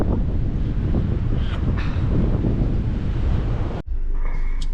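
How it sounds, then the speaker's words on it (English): Loud, steady wind buffeting a GoPro Hero10 microphone with wind noise reduction on, a low rumbling roar cutting out abruptly near the end to a quieter, thinner background. "So it was windy, pretty windy"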